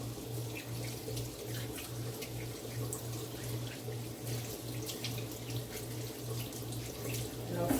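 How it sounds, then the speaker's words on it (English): Tap water runs steadily into a sink as hands are rinsed under it, with a constant hiss and low hum throughout and no talking. "Wash off my hand."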